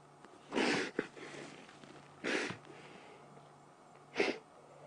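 Sneezes during an evening safari game drive near a pile of lion cubs: three short, sharp bursts spaced a couple of seconds apart, close by and fairly quiet, over a low, steady hum.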